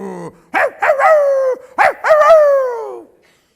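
A small Chihuahua gives a run of high-pitched yips and whining, howl-like cries in short bursts, each sliding down in pitch. The calls are close and fairly loud, with brief gaps between them and no talk.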